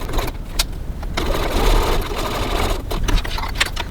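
A sewing machine top stitches 3 mm from the edges of a cross body bag at a 3.1 stitch length, running steadily and close up for several seconds with brief changes in pace.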